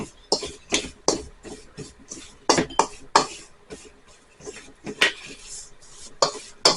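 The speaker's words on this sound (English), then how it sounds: "So I just push the spoon down and kind of smash it and move it all around." A spoon pressing and stirring blueberry crumble topping in a dish, a steady series of close clinks and scrapes against the dish in an irregular rhythm, about a dozen distinct strokes with no talking.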